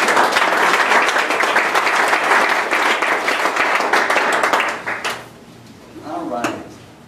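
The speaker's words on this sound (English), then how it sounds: "So applause for everybody again. One more time." Dense audience applause at a startup demo day fills the first five seconds, then fades into scattered claps and a brief murmur of voices.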